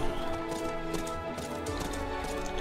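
Steady clip-clopping of a horse's hooves in the Horse Riding Tales game, a continuous rhythmic patter blended with layered game music at moderate volume.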